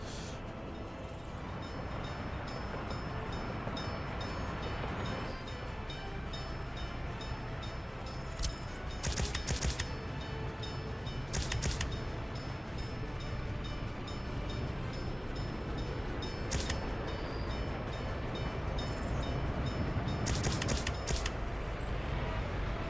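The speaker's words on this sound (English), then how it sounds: "We also bought a new train, which we are using to export coal." A video game train hauling coal rumbles steadily along the tracks with a low continuous drone, broken by a few sharp clicks and clanks.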